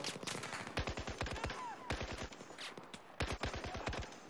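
Automatic gunfire in the video game Battlefield 4, rapid bursts of sharp shots in several quick strings separated by brief pauses, fairly quiet overall.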